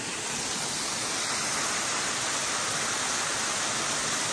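A waterfall on the Appalachian Trail, running lower than usual, gives a steady dense roar of falling water, close and unbroken throughout.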